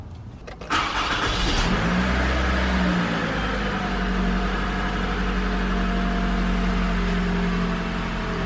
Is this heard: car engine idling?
yes